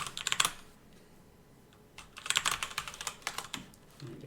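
Rapid bursts of typing on a computer keyboard while writing code, clattering keys in two clusters separated by a quiet pause, close and clear with no talk.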